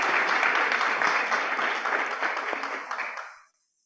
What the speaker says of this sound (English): I'd like to give a round of applause to our speakers